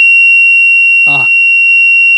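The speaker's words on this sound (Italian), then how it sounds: "il cicalino per ricordare che le porte davanti sono aperte" The door-open warning buzzer of a 1984 Alfa Romeo Arna sounds a steady, high-pitched electronic tone without a break throughout, with a brief voice cutting in near the middle.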